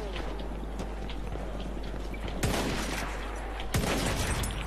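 Rifle gunfire in the Battlefield 1 video game: two sharp, loud single shots about a second apart stand out over a dense, busy battle ambience.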